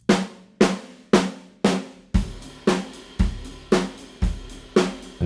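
A dry, close-sounding drum kit plays a steady beat of about eleven punchy hits, each ringing briefly in a small room before the next.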